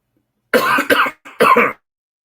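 Three short, close coughs in quick succession, then silence.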